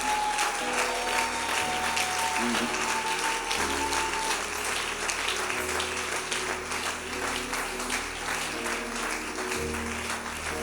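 A church congregation applauds, steady sustained clapping from many hands filling the room, with a few voices and tonal sounds faintly underneath.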